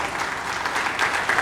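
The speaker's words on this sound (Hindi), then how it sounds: "जोरदार तालियां बजाइए।" A crowd at a Hindi poetry gathering gives steady, dense applause, a continuous wash of clapping that swells slightly toward the end.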